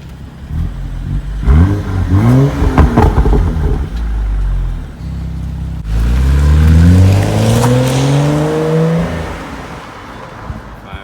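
A deep BMW M235i xDrive engine idles and then revs up twice, rising in pitch each time, loud and close with no talking.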